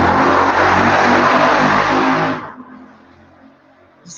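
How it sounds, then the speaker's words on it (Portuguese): A motorcycle roars loudly close by for about two seconds, then cuts away sharply and leaves a faint residual hum. "o barulho da moto"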